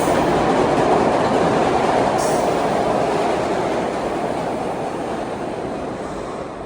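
Philadelphia's Broad Street subway train, a short train running fast on the express, roars loud and steady with rail noise and faint clatter, slowly easing in level, no voices.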